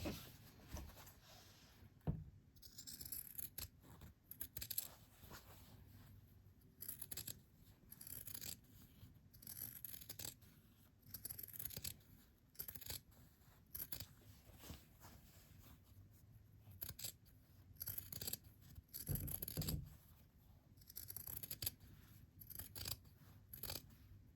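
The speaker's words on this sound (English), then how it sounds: "So I'm just going to have my seam allowance, so cut it by half" Scissors trim fabric seam allowance on a curved sewing seam, producing close, quiet snipping and crisp cutting strokes in irregular runs with brief pauses.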